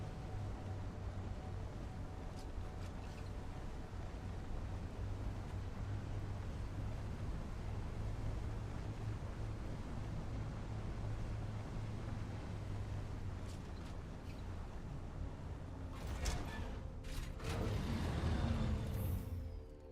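Steady low engine drone of a flying vehicle in Dune: Awakening, a continuous rumble with a rising whoosh and rattle near the end, no talk over it.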